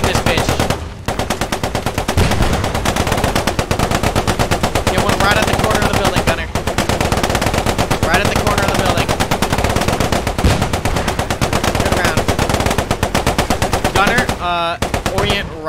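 Rapid, sustained bursts of gunfire from a Cromwell tank in the World War 2 video game Post Scriptum, loud and dense, with brief gaps and a faint voice near the end.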